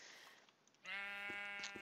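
A sheep in Minecraft lets out one drawn-out bleat, close and clear, after a brief quieter lead-in, with no talking.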